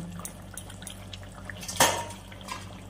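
A metal lid set onto a pot of simmering fish curry gives one sharp clatter partway through, amid light drips, small kitchen clinks and a low background hum.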